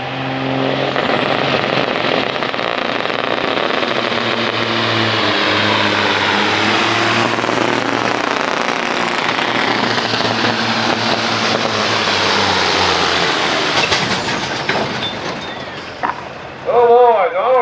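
Semi trucks, a Peterbilt among them and one with a Detroit engine and the other with a Cat, roar loudly under heavy load at a truck pull at a steam and rust show, with engine pitch rising and falling throughout and an announcer talking over the din.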